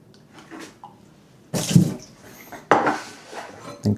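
Hot water sloshed around inside a coffee cup to warm it, heard as a few short, close splashy bursts with faint clinks of crockery between them and no talking.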